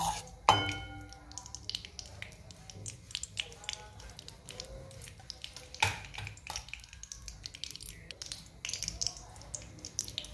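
Ghee heats in a hot kadhai with a soft, continuous sizzle and fizz, punctuated by metallic clinks of a spoon against the pan, close and fairly quiet.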